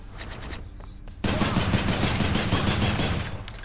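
Exagryph rail gun firing in the video game Hades, a dense rattling burst of rapid shots that starts abruptly and then continues loud and steady, with lighter rapid clatter before it.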